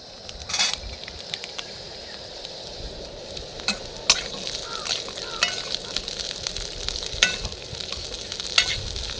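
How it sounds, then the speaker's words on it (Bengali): Jackfruit seeds fry in a pan while being stirred, a steady close sizzle broken by scraping strokes and clacks of the spatula against the metal at irregular moments, with no voices. "দিয়ে ভালো করে বিচিগুলোকে ভাজবো"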